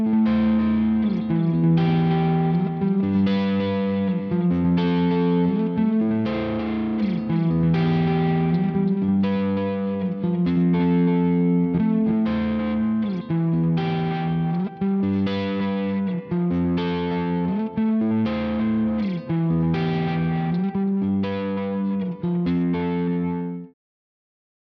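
Electric guitar run through a saturated amp, with pre-delay repeats feeding into the distortion and getting compressed along with the dry signal. It plays continuously and loudly for about 24 seconds as sustained chord patterns with rhythmic attacks, then cuts off abruptly at the end.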